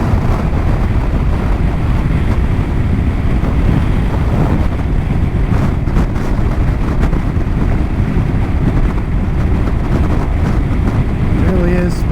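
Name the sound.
wind blowing on a lookout in Baja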